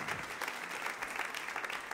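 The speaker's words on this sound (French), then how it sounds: "tous ceux qui le croient applaudissent bien fort" A church congregation claps loudly together, a dense burst of applause lasting about two seconds with no speech over it.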